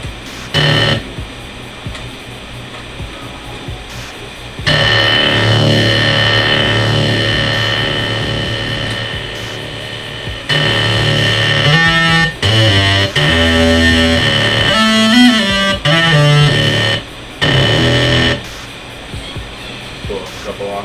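Electronic music track in a production session with a distortion effect added after a flanger preset, dense gritty harmonics and pulsing synth tones that cut in and out in bursts, with no one talking over it.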